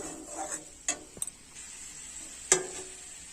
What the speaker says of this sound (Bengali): খুব ভালোভাবে নাড়াচড়া করে মশলার সাথে আলু কষাই করে নেব